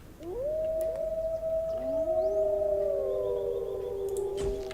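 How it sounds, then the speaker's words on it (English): Several wolves howl in a strategy game set in a wild landscape, long rising and sliding cries overlapping one another at moderate distance over a low ambient bed, with no talking. "I'm hearing wolves."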